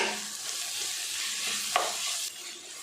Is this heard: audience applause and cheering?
no